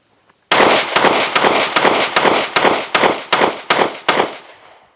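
A Kimber R7 Mako Tactical pistol fired ten times in a quick, steady string, each sharp loud report ringing briefly before the next, with no talking.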